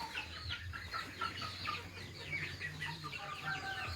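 Chickens in a makeshift coop with a plastic roof cluck and chatter continuously at moderate distance, several birds calling over one another in short rising phrases.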